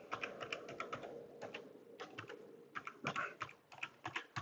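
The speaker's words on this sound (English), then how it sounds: "Type in your password." Quick, light keystrokes on a computer keyboard as a password is typed, soft irregular clicks in short bursts with brief pauses, close and quiet.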